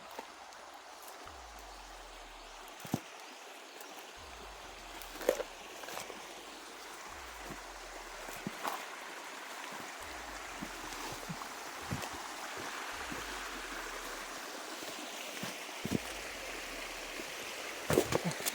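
Stream water flowing with a soft, steady rush and scattered splashes and knocks, moderately faint and without talk.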